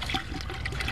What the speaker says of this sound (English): Now I want to put in here also a cup of brandy